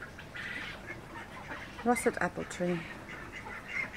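Ducks in a small city garden in Truro, Cornwall let out a short burst of quacks and honks partway through, moderately close, while a person speaks briefly over light background noise.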